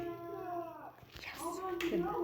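A person imitates a cat's meow with a few short, whiny rising and falling vocal cries, close and fairly loud, in a quick run of two or three calls.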